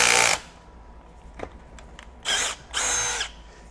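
A Milwaukee M12 FUEL Gen 3 hammer drill gives three short, loud bursts of motor whine up close, separated by quiet gaps with faint clicks.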